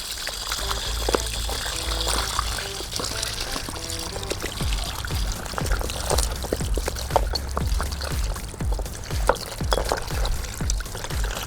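Water pours and splashes continuously onto a Mitsubishi Pajero 2 rear brake caliper being rinsed, with scattered drips and trickles throughout, fairly close and steady.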